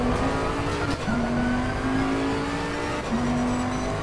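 Racing car engine, a Bentley in Assetto Corsa Competizione, revs high and steady, with quick gear shifts dropping the pitch before it climbs again, loud and alone.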